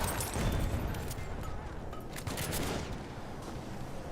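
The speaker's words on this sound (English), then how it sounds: "Machine gun over there" Machine gun fire in a Battlefield 1 World War I battle, sustained rattling bursts close by with dense gunfire filling the scene throughout.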